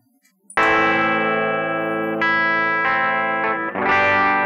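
An electric guitar played through the Dynakiller compressor plugin rings out in sustained, compressed chords, struck four or five times in succession with a full, saturated tone and long even sustain.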